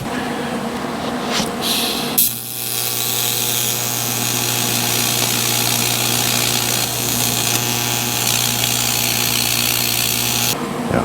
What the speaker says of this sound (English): We're gonna do like a quick weld across there, up where this crack is, and grind her down